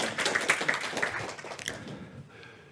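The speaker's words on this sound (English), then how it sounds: "I think they deserve a big round of applause" A conference audience claps for the organisers in a short, sparse burst of hand claps that thins out and fades within a couple of seconds.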